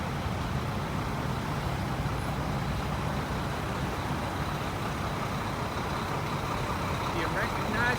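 Pickup truck cruising along a road, a steady low engine and tyre rumble from inside the cab with faint voices beneath.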